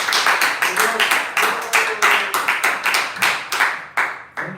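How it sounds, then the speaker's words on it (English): An audience at a devotional talk claps in a round of applause, distinct sharp claps that are close and loud, irregular and quickening, with some voices mixed in. "Big round of applause for this."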